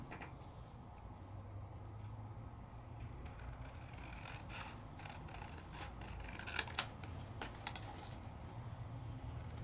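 Scissors trim around a paper die cut in a run of close, crisp snipping and rustling cuts, uneven in rhythm and fairly faint, with no talking.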